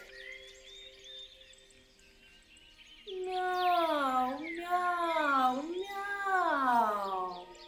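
A voice imitates a cat, giving two or three drawn-out, wavering meows after a soft, quiet lead-in.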